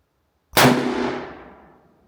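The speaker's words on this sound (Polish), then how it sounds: "Pierwszy strzał z mojego Sakoter G22." A single loud shot from a Sako TRG 22 rifle cracks sharply and then decays into a long fading echo.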